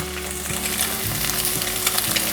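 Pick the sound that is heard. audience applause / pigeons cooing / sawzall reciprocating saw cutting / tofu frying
tofu frying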